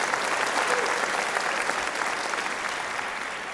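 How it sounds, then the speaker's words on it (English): A crowd claps steadily and loudly at a bluegrass concert, dense applause filling the whole moment without a break. "Y'all give him a nice hand of applause."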